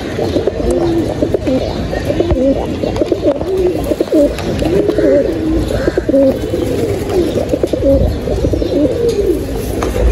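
Pair of pigeons cooing continuously up close, repeated throaty warbling coos over a light background murmur.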